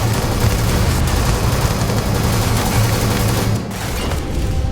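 Sustained gunfire in the video game Starfield, a dense, loud, continuous crackle of shots that runs nearly the whole time with a brief dip near the end.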